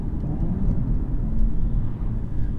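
A 2018 Audi S4 Avant on Conti Sport Contact 6 tyres, heard from inside while driving hard: steady low engine drone and road rumble, loud and continuous with no talking.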